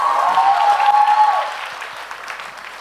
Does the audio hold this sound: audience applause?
yes